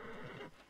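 A horse in Red Dead Redemption 2 gives a short, breathy whinny, close and moderately loud, fading out quickly.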